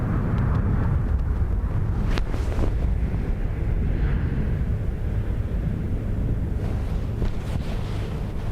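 Strong storm winds buffet the microphone at Dublin Airport, a constant loud roaring rush with gusty surges throughout and no voices.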